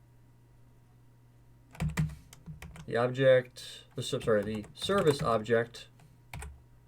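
Keystrokes on a computer keyboard while commands are entered for a Cisco ASA firewall, clicking under a voice explaining the steps, close and moderately quiet.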